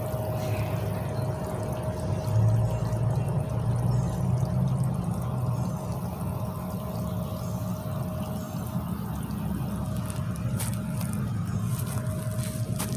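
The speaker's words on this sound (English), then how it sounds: "The water barely is flowing over." A creek's water trickles and pours steadily over a low spot, a continuous near rushing wash with faint outdoor background and no talk.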